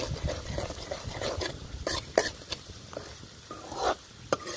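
Seeds and asafoetida sizzling in hot oil in a pan for a raw mango dish, stirred with frequent sharp scrapes and clinks of a spatula against the pan, close and fairly loud.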